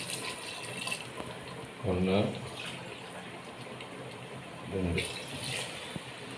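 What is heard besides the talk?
water poured into pot of mutton for biryani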